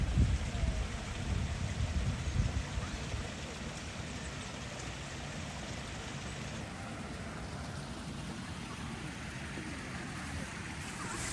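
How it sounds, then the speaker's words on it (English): A small waterfall in the grounds of Newstead Abbey gives a steady rushing splash of falling water, louder at first and then settling into an even wash. "That cute little waterfall there."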